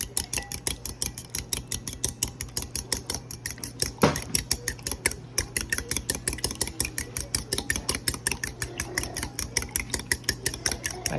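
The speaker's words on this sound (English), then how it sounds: "I'm gonna stir these all up and scramble them here." A utensil beats rapidly and steadily against a bowl, scrambling eggs, in a fast rhythmic clatter that continues throughout, close up, with no voices.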